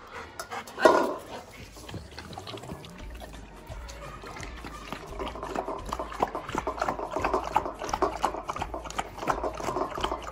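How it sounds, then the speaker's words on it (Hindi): A Rottweiler drinks water up close, with a steady run of wet lapping and panting sounds over several seconds and a brief sharp sound near the start. "पानी पी लो ओ जुड़ो ये ले अरे पानी पियो"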